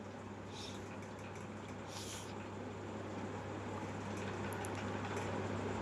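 Mutton pieces frying with onions in a pan for mutton kuzhambu, giving a steady, dense sizzle with a constant low hum underneath that holds evenly throughout.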